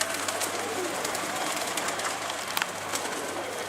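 Birds coo and flutter softly over a steady low hum, with a few brief sharper chirps; no voices.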